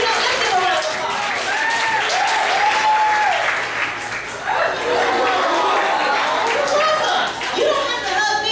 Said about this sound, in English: But see, let's give a round of applause.